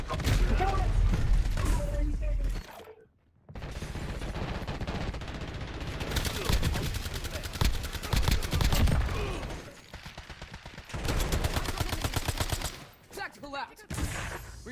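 Sustained video game gunfire in bursts of rapid automatic shots and volleys, loud and dense, with brief pauses between barrages and a voice talking over it.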